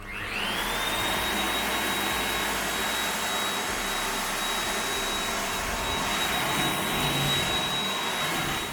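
A Xiaomi Mijia 600W cordless vacuum cleaner runs steadily at close range with a loud, even airy roar and a high motor whine, no voices.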